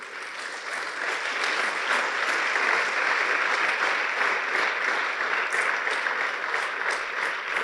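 Sustained applause from a large church congregation, steady and full for several seconds, with no one talking over it.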